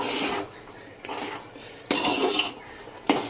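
Spoon stirring vegetable dum biryani in a metal pot, three or four separate bursts of scraping and clinking against the pot with quiet pauses between, close and moderately loud.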